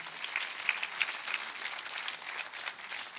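A crowd applauds steadily, a dense wash of clapping that holds at an even level throughout without any voices.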